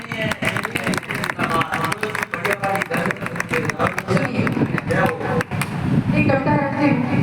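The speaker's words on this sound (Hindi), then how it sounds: "एक बार आदरणीय नीरज जी के लिए और श्री शेखर आचार्य के लिए जोरदार तालियां।" An audience claps at a Hindi poetry gathering (kavi sammelan) in Mainpuri, a burst of rapid, dense applause that swells and continues, with crowd murmur and a voice over it.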